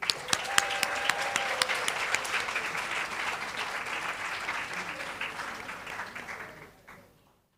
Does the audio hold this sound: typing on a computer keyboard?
no